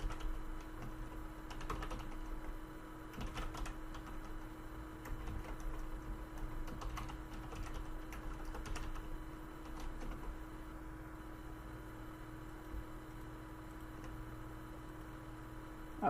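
Soft, quick keystrokes on a computer keyboard, tapping in irregular bursts over a low steady hum.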